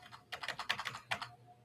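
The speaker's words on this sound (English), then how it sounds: "it's very hard to type in this" Fingers type on a computer keyboard in a short, quick burst of clicky keystrokes, close and fairly quiet, with no talking.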